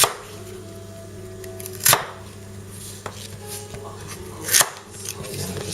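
Celery being chopped with a Tops Lite Trekker survival knife on a board, a few sharp isolated chops spaced well apart over a quiet low background hum.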